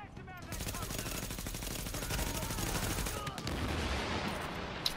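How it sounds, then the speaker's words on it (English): Vector submachine gun firing rapid bursts in the shooter game Tom Clancy's The Division, a dense string of fast shots that stays loud and continuous throughout. "I try to shoot between them because sometimes the Vector's bullets, it spreads. Rapid fire."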